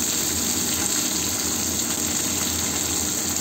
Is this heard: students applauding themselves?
no